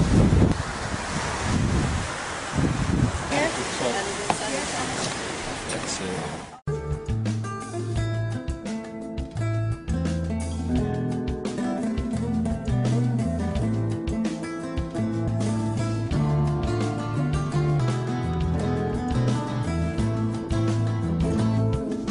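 Wind and Aegean Sea surf noise roar for a few seconds at Altınoluk, then a steady stretch of music plays for the rest.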